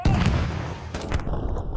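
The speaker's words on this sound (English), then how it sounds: "one of the machine gunners is opening fire on these Germans here, taking down a lot of them" Machine gun fire in Totally Accurate Battle Simulator during a World War I battle, with gunners firing on German troops; a loud, sharp burst at the start, then scattered thuds and shots amid battle noise.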